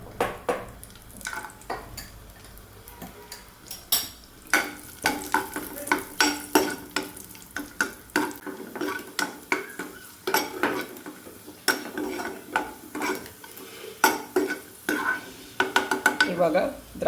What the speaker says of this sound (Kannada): ಇವಾಗ ದ್ರಾಕ್ಷಿ ಕೂಡ ಫ್ರೈ ಆದ್ದು ಸಾಕು, ತೆಗಿತೇನೆ.